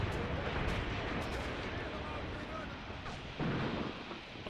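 Grenade explosions in a WW2 video game battle with Soviet artillery and German attackers: a dense, continuous roar of blasts and gunfire, with a sharper burst near the end.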